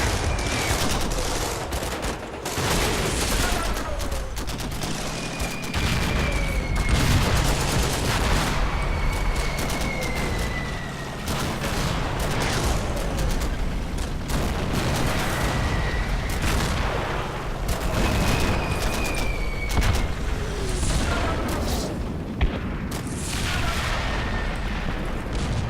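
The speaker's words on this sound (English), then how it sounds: "Artillery's coming down, I'll have to eye off that." An artillery barrage in the wartime strategy game Combat Mission Final Blitzkrieg rumbles on without a break, with dense overlapping blasts, booms and shell whistles, loud and close, and no talking.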